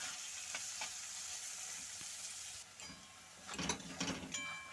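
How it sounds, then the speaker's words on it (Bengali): Carrots and green chillies frying in oil in a pan for Bengali-style poha pulao, a steady crackling sizzle with a few stirring scrapes and clinks toward the end. "তো গাজরটা দিয়ে আমার কিছুক্ষণ ভাজা হয়ে গেছে"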